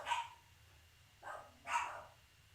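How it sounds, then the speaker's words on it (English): Small dogs bark indoors in three short sharp yips, slightly distant and fairly faint, with quiet pauses between barks. "I do have dogs. They're yippy dogs."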